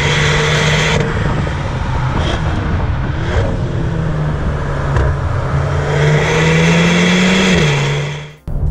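A 2024 Audi S3 with a 333 hp engine accelerating, a loud steady engine drone that climbs gradually in pitch through the gears, with a brief dip near the end before it resumes, heard up close with no talking.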